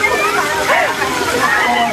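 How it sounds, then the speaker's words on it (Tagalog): Water splashes and sloshes steadily at the Atlantis waterpark in Dubai, loud and close, with excited voices shouting over the spray. "Binabaril si Madiskarte ng tubig"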